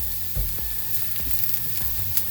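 White wine poured into a hot pan for creamy shrimp fettuccine Alfredo, sizzling steadily up close with scattered scrapes and taps of a utensil stirring, no voices.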